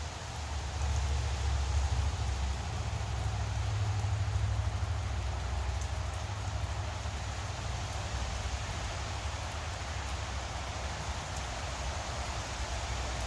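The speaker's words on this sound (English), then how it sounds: "Nice to get some rain." Rain falls outdoors in a soft, even hiss that stays steady and fairly quiet for the whole stretch, with no voices over it.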